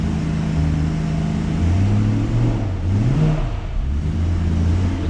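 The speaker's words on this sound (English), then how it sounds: "Put the camera outside the car so that we can pick up the engine noise." A BMW E92 M3 with the 4.0 V8 and DCT gearbox revs loudly and steadily, heard from outside the car, its engine note rising and falling through a few sweeps with no talking.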